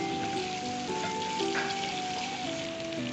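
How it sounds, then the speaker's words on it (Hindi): Ginger garlic paste hits hot oil in a pan, giving a steady, close sizzle that holds for the whole moment, with faint tonal background music. "अब हम इसमें 1 चम्मच के करीब अदरक लहसुन का पेस्ट डालेंगे"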